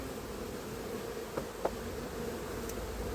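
Honey bees buzz around a hive in a soft, even drone, fairly quiet and continuous, with a couple of faint taps breaking through.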